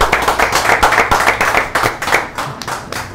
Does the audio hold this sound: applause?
yes